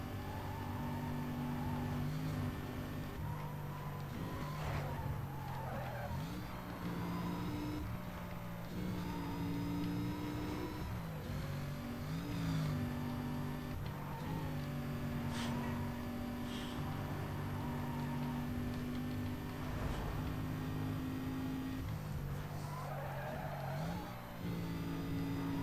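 A car engine in the racing game Need For Speed Most Wanted drones steadily, its pitch rising and falling as it revs and shifts through corners, continuous and moderately quiet throughout.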